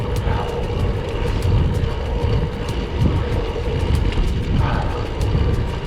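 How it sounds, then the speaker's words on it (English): A loud freewheel hub on Hunt X Mason 4 Season Disc wheels buzzes on a gravel-converted Felt VR60 during a ride, a fast steady ratcheting rattle of close ticks under constant road and wind rumble. "It is a loud hub, which is a little weird on a road bike, but still, super fast engagement."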